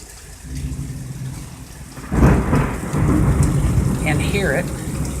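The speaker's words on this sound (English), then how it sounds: "It is raining so hard. It is sheeting off the roof" A heavy summer thunderstorm: rain pours down steadily, and a loud, close thunder crash breaks in midway and rumbles on beneath the downpour, with no talk.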